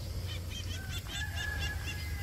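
Several short, honking calls from white bantam chickens in a quick series, close by, over a low background hum.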